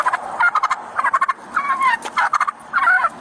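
Close, loud gobbling from a turkey met by police, with quick stuttering bursts broken by a couple of drawn-out warbling calls, repeating without pause and no talking.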